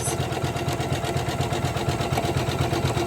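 A Janome 500e embroidery machine stitches around a box outline on a Christmas tree ornament, giving a steady, rapid, mechanical chatter of needle strokes that runs evenly and close without a pause.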